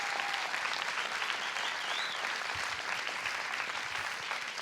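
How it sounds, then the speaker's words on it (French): A studio audience claps steadily for a talk show's guests, a dense, even wash of applause that fills the whole moment without pause. "On va applaudir bien fort"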